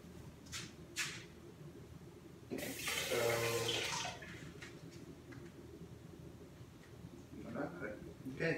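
Tap water runs in a broadband rush for about a second and a half, added to a homemade bath bomb mixture, with quieter hand-mixing sounds before and after and some talk nearby.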